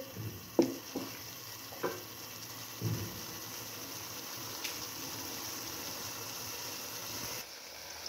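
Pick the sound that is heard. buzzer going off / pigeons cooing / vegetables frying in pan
vegetables frying in pan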